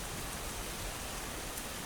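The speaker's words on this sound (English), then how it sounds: "it rained for 40 days and 40 nights" Steady rain falls in a dense, even hiss, loud and continuous with no talk or other sounds.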